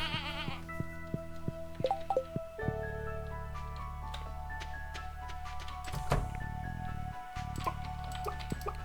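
Sheep bleating in a big barn while farm animals are petted in the Stardew Valley video game, short bleats over steady game background music and a few ticking sound effects.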